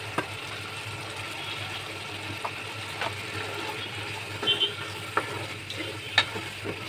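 Mixed vegetables sizzle and fry in a pan for vegetable khichuri, a steady close hiss broken by occasional scrapes and stirring clicks, no talking.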